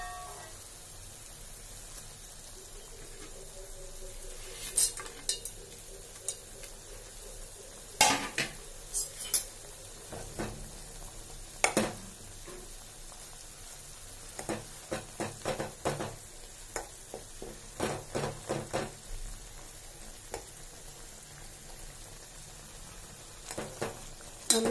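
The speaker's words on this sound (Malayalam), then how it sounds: "നന്നായി ഇളക്കി കൊടുക്കാം." A spoon stirs Maggi noodles in a pot of boiling water, giving sharp metallic clinks and scrapes against the pot in irregular bursts over a quiet bubbling background.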